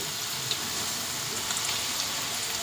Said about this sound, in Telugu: చూడండి, అవి మంచిగా ఫ్రై అవుతున్నాయి.